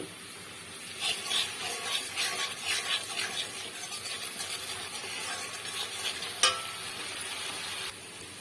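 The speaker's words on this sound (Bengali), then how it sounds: "দিয়ে এটাকে ভালো করে কষিয়ে নিতে হবে।" Spice paste loosened with a splash of spiced water is stir-fried in oil for a pomfret mustard curry, giving a steady sizzling hiss with occasional scraping stirs and one sharp spatter.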